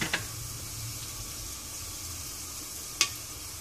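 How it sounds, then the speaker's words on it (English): Whole spices sizzle faintly in hot oil with a steady low hiss, broken by two sharp crackling pops, one at the start and a louder one near the end. "Just wait till it cracks, you can hear it."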